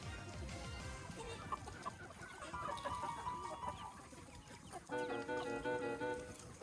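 Korean native chickens on a free-range farm cluck and murmur nearby in a steady, busy chatter, with a burst of louder clucking near the end and no speech.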